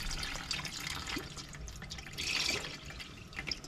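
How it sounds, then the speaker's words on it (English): Motor oil dripping from the drain plug of a 2021 Ram ProMaster City into a drain pan during an oil change, a steady patter of close drips and trickling liquid with no talk. "once it starts to drip like that, you know it's about ready"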